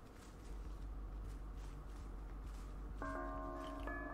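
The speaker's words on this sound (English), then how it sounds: "The bells." Bells ringing in the Dead by Daylight horror video game, a few faint tolling chimes arriving late over a quiet ambient hum and soft footsteps.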